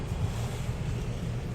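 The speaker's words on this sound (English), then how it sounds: "The great thing is it's pouring down rain" Heavy rain pours down outdoors on a cold day in cow pasture country, a steady dense wash of noise with wind buffeting the microphone and no voices.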